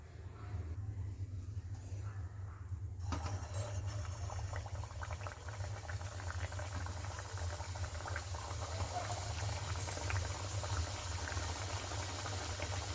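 A batch of aloo kachori goes into hot oil for deep-frying, a steady close bubbling and sizzling that swells after a quieter start and keeps on with no talk.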